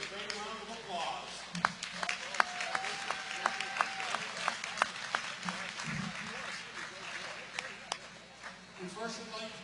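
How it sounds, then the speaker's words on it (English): An audience at a national championship hockey awards ceremony claps for the tournament chairperson, scattered close claps over a room full of murmuring voices. "I believe are entitled her to a great round of applause."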